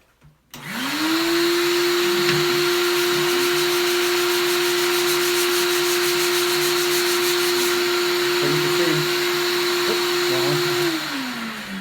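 A shop vac runs steadily and loudly while drywall is sanded, a constant motor whine starting abruptly and holding for about ten seconds with faint rubbing of the sanding underneath, then winding down near the end.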